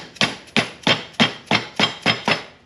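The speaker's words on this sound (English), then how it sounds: "you can take the dead blow hammer, and it should come in" Seven evenly spaced dull thuds from a dead blow hammer tapping a trailer wheel bearing seal into its hub, close and loud with short decays, no talking.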